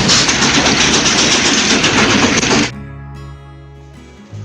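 A train rushes by in a loud, dense clatter for a few seconds, then cuts abruptly to a quieter low hum.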